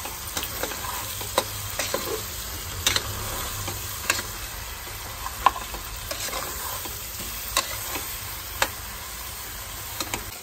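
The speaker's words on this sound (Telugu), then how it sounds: "సాల్ట్ వేసుకొని ఒకసారి కలపాలి. మనం స్టవ్ని హై ఫ్లేమ్లోనే పెట్టుకోవాలి." Mutton with ginger-garlic paste and salt frying in a pan on high flame, giving a steady sizzle under the whole stretch, while a spoon stirs and scrapes now and then with faint clicks.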